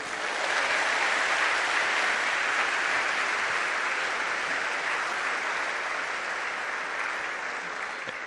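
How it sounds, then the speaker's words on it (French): A large audience applauds the First Lady with a loud, sustained, even wash of clapping that stays steady throughout and tapers only slightly at the end. "je demande qu'on l'applaudisse"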